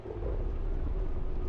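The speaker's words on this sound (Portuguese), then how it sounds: "Tu fica ouvindo a chuva" Steady rain and low rumbling thunder fill the background of the horror video game FOBIA St. Dinfna Hotel, a continuous even wash of storm noise with no voices.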